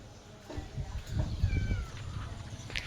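A cat meows a few times at close range against low background noise, the calls short and slightly strained.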